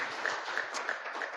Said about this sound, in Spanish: damos un fuerte aplauso al Dios Todopoderoso